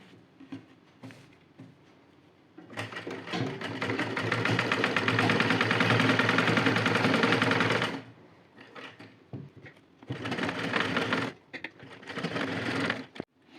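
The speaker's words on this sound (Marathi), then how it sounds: "चला मी आता गळ्याला पण अशीच शिलाई मारून घेते." A sewing machine runs a blouse neckline through its needle in two long stitching bursts, steady and close, with brief pauses and small handling noises between them.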